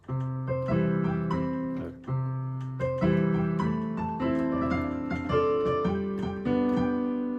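Piano plays a slow melody of a doo-wop tune, with sustained notes and chords struck in a steady rhythm, close and clear with no talking.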